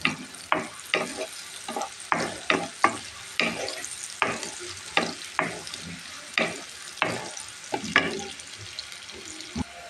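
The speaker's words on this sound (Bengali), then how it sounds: "হয়ে গেছে আমার পেঁয়াজটা ভাজা" Onions frying in a pan for a hilsa fish dish, steady sizzle broken by repeated sharp spatula scrapes and stirs, close up with no talking.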